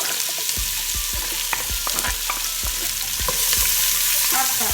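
Onions and garlic fry in a pan over medium heat with a steady close sizzle, punctuated by repeated soft knocks and scrapes of stirring throughout.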